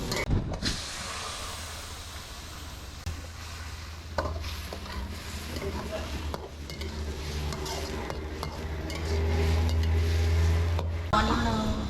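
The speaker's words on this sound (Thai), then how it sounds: "นี่เราจะผัด" Thai food stir-fries in a hot pan, with a steady sizzle and hiss under repeated scraping and clattering of a utensil against the pan, close up, with a voice now and then.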